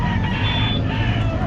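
Fighting roosters for sale at an animal market in Calumpit, Bulacan, crowing and clucking loudly and close together over a dense background of market noise.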